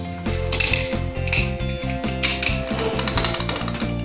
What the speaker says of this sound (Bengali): এর আমি প্রেশারটা আমি ঢাকা দিচ্ছি